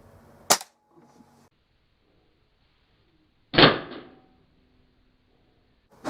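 Webley D Ram .177 gas ram air rifle with open sights firing a pellet, one sharp loud crack with a short clattering tail, set between quieter clicks and knocks from handling nearby.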